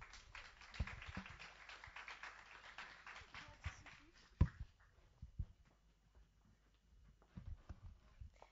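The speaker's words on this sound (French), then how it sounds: "je vous invite à applaudir Élodie pour le jeu concours" Applause from an audience at a French conference talk, a quiet patter of clapping over the first four seconds that thins to scattered claps, with a sharp knock and faint voices afterward.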